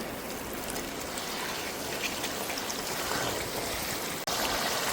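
Boiling hot water is poured into a pan of Bengali-style pork curry. A continuous, close splashing pour runs the whole time and cuts off sharply just before the end.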